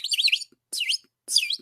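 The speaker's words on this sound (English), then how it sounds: "This is not a frog. This is a bird." A small bird calls in three quick bursts of high, bright chirps and tweets, separated by short silences, fairly close and clear with no voices.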